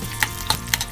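Cashews and raisins roasting in a pan give a soft, steady sizzle with a few light stirring clicks, close and brief.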